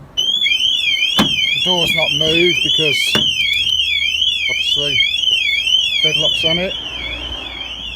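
A loud electronic vehicle alarm siren on a VW Transporter van wails continuously with a rapid warbling pitch after a door is opened manually, while someone talks over it; it fades slightly near the end.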